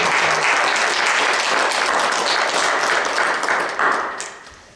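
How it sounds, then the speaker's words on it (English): A church congregation gives a warm round of applause during a Sunday service, dense sustained clapping filling the sanctuary and then thinning out and fading over a few seconds. "Let's give them a round of applause."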